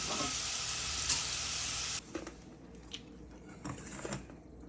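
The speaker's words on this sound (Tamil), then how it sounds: "இப்போ நல்ல வடிவாக பொரிஞ்சு ஒரு ப்ரௌன் கலருக்கு வந்துட்டுது" Food deep-fries in a pan of hot oil until golden brown, a loud steady hiss for a couple of seconds that suddenly drops to quiet crackles and occasional utensil clinks.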